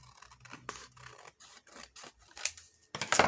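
Scissors snip through paper while a lavender journal page with a pocket is being made, a quick run of short close scrapes and cuts with brief pauses between them.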